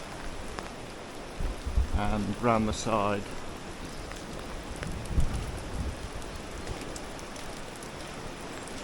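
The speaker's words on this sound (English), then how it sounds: "it's absolutely lashing down with rain" Steady hiss of heavy rain pouring down nearby on a wall being soft washed, with someone briefly speaking over it early on.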